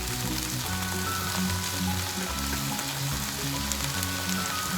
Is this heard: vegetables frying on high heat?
yes